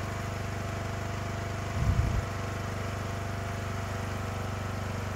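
A small engine idles after its throttle has been adjusted, holding a steady, close rumble with one brief louder surge partway through.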